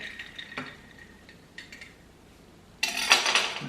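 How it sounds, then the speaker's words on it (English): A knife stirs a gimlet cocktail in a glass, giving a few light metallic taps and clinks early, then a louder burst of rattling and scraping in the final second. "Can you believe I'm stirring this up with my knife?"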